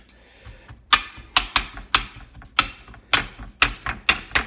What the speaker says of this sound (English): getting through the meat a little bit with a fork.